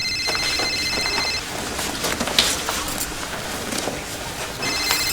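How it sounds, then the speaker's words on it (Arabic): A mobile phone ringtone in a scene from an Egyptian TV drama rings in two bursts, one at the start and one at the end, with a stretch of shuffling and clatter between them. "تليفوني بيرن."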